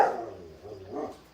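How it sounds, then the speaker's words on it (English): A dog barks indoors, one or two close, muffled barks that fade away, while someone cooks in the kitchen. "that dog's going crazy"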